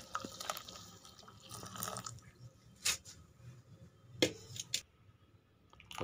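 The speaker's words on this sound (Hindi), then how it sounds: "अब इसे कपड़े की मदद से छान लेंगे ताकि इसमें से गंद जो है वो अलहदा हो जाए।" Jaggery water being strained through a cloth, heard as soft wet dripping and trickling with a few sharp handling clicks and taps, close and fairly quiet, with no one talking.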